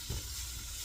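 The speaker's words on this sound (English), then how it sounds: "So we're going to add our bacon, and we're going to start rendering it down." Bacon sizzles steadily in a hot pan, a soft continuous frying hiss with a brief thump near the start, no voices.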